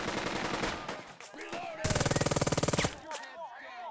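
Rapid automatic gunfire from the WWII tactics game Burden of Command, a dense burst of evenly spaced shots lasting about a second, loud and close, framed by a voice talking before and after.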